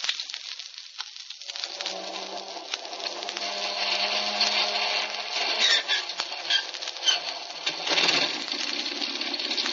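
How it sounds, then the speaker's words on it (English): An aircraft engine starts up as a radio drama sound effect, a steady buzzing, whirring drone that builds after a second and holds loud and continuous, with faint rattles and a lower hum underneath. "Here we go with engine number 1."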